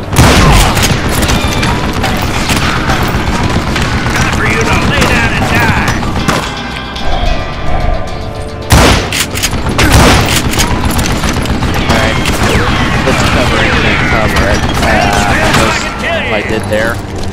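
Dynamite blasts and gunfire boom through a Wild West shootout in Call of Juarez: Gunslinger. The explosions and rapid shots are loud and dense, with a voice talking over much of the action.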